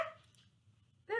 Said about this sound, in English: There's the dog.